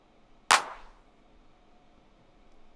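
A crash cymbal sample in a house remix hits once, sharp and bright, then decays quickly into a quiet background.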